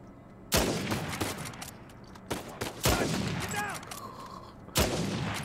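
Gunfire in Uncharted 4 breaks out as several loud, separate bursts of shots with ringing echoes between them, alongside faint game effects and the occasional voice.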